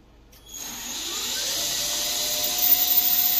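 A CNC lathe spindle motor spins up from near silence, then settles into a steady, loud, high-pitched whine, with a rising tone gliding upward as it gains speed.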